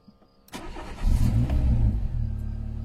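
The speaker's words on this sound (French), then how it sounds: "je vais essayer de démarrer et je vais vous montrer que le moteur tourne nickel." A car engine cranks and catches after a short quiet moment, then settles into a steady, close, smooth idle that runs to the end.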